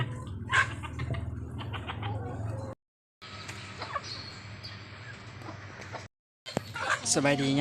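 Chickens cluck and call close by in a rural yard, short repeated fowl vocalizations mixed with people talking and background noise, with brief breaks of silence between segments.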